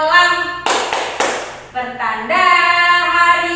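Hand claps for the tepuk malam rhythmic clapping game, a few sharp, close bursts in a short pattern, set among sung or chanted vocals that carry on after the claps.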